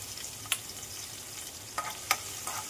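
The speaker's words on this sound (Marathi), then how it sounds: "आधी मी तेल तापत ठेवले, आता मी त्याच्यामध्ये लसूण टाकते" Garlic sizzling in heated oil in a home kitchen pan for a Marathi curry, a steady crackling fry with a few sharper pops and stirring scrapes, close and alone.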